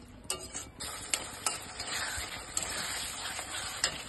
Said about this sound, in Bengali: এখন আমি ক্যাপসিকাম, টমেটো আর পেঁয়াজটা দিয়ে দিলাম। দিয়ে এটাকে একটু ভালো করে কষিয়ে নিব।